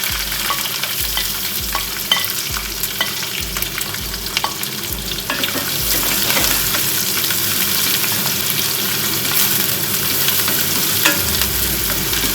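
Sliced onion, three chopped green chillies and curry leaves sauté in hot oil, with a dense crackling sizzle and a rhythmic series of spoon scrapes and knocks against the pan, growing louder partway through, with no one speaking.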